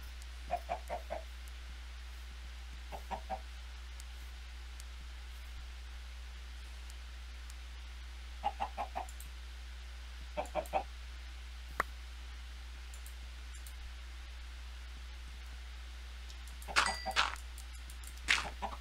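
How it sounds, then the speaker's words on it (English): Chickens clucking in the video game Minecraft: several short bursts of clucks come in scattered groups over a steady low hum. The sound is moderately close and there is no talk. "I need another chicken."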